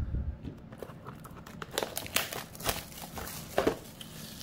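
Foil wrapper of a 2021 Bowman Sapphire baseball card pack being torn open and crinkled up close, quiet irregular crackles and rips building to sharper bursts near the end.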